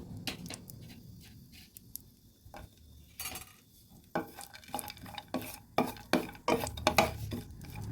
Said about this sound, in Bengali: আমি কাজু আর কিশমিশগুলো হালকা ভেজে নেব